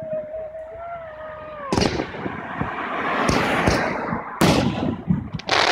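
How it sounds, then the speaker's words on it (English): Fourth of July fireworks bursting nearby in several loud booms and crackles, with a whistling rocket rising before the first blast. "You like the fireworks?"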